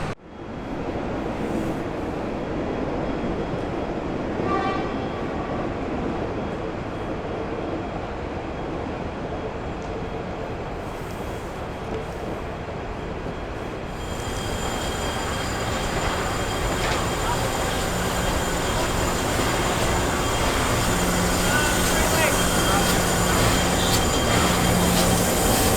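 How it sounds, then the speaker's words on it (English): Heritage railway locomotives and carriages running around at Daylesford, a long continuous rumble of wheels on track with squeals and a loud steady engine drone building later, close by, with faint voices now and then. "So we're just waiting for the locomotives to run around."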